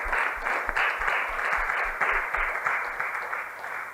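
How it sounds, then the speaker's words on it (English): Audience applause for panelists at the close of a fintech panel discussion: steady, dense clapping from a sizeable crowd, moderately loud and even throughout with no talk over it. "Let's give a round of applause to them"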